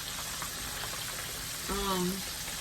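Chicken strips cook in a pan with a soft, low sizzle running underneath, while a voice briefly comes through near the end.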